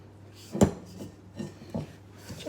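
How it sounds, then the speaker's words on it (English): A spatula scraping down the sides of a mixing bowl while baking a raspberry slice, giving a few short rasping scrapes, the first one loudest, at close range with no talk. "Just scraping the sides down."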